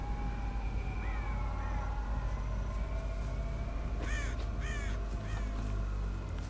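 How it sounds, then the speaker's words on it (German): Crows caw in Dead by Daylight, several harsh, rising calls ringing out in pairs over a constant low, droning ambient rumble. "Können auch die Krähen gewesen sein."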